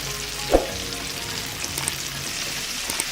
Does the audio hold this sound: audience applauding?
no